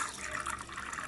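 Water pours steadily into a mixer jar for a summer nungu drink, a close, continuous splashing trickle with no talk over it.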